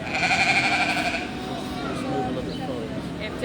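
Goats bleat at a fair, a loud wavering cry at the start that fades into quieter bleats against background chatter and crowd noise.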